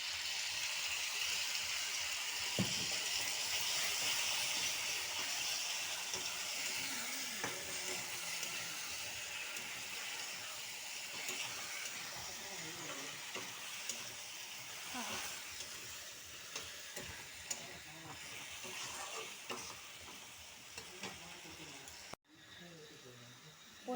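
A paste of tomato, green chili, ginger, cumin, garlic and onion fries in a pan for an egg omelette curry, giving a steady, close hiss and sizzle with occasional soft stirring knocks throughout.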